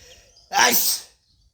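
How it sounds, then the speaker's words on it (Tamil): One sharp, loud sneeze bursts out indoors, brief and alone, followed by near silence. "இங்கே பாருங்கள் அடுத்து தும்மல் வந்துருச்சு"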